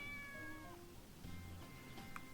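A cat meows in Sakuna: Of Rice and Ruin. There are a few quiet, drawn-out meows with a small chirp near the end, heard alone over faint background.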